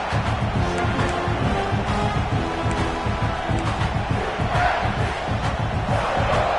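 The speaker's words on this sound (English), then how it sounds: "This crowd, full throat, splitting the eardrums" A college football stadium crowd roars at full volume, a dense continuous wall of cheering and shouting that stays loud throughout.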